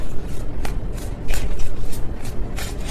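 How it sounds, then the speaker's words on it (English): Tarot cards shuffled by hand in a loose, sloppy shuffle, giving several short papery riffles and bursts close to the mic over a low background rumble, with no talking. "That was a sloppy shuffle."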